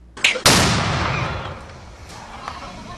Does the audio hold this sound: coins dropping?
no